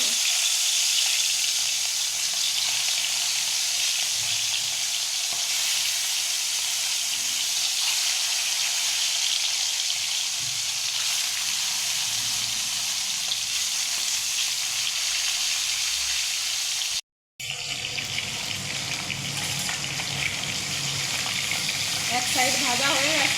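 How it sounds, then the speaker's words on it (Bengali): Fish fries in hot oil, a loud, continuous close sizzle and crackle that briefly cuts out, then resumes with bubbling and spattering. "এখন আমি তেলে মাছ ছেড়ে দেবো,"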